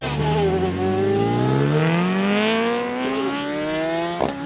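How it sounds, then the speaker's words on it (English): A Ferrari F430 Scuderia V8 with a Capristo aftermarket exhaust pulls hard, its loud, rising engine note climbing steadily through the gears, close to the listener, ending in a sharp crackle. "Lovely Capristo aftermarket exhaust pull."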